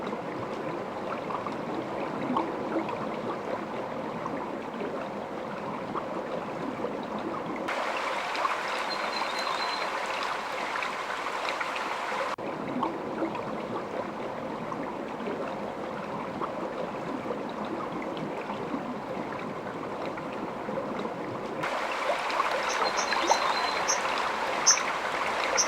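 Mountain stream flowing, a steady wash of running water over stones that holds for the whole stretch with a few brighter trickling passages and a slightly fuller surge near the end, no voices.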